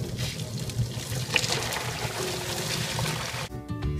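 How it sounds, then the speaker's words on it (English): Boiling water pours steadily over microfiber cloths with a continuous splashing trickle, loud and close, ending with a brief clatter. "Step 3, pour boiling water over cloths."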